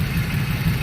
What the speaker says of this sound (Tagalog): magbabago yung tunog ng makina